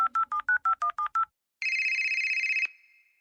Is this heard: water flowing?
no